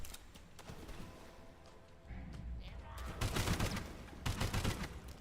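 Rapid gunfire in the SULFUR video game, with dense bursts of shots close and fairly loud, building over the last couple of seconds beneath a low ambient background.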